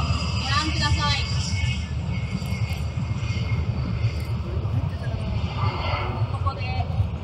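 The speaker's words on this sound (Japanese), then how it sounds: "2機の救難機が離陸を開始しました。" Two rescue aircraft take off at the Hamamatsu air show in 2024: a steady, loud engine roar rumbles throughout, with a public-address announcer talking over it.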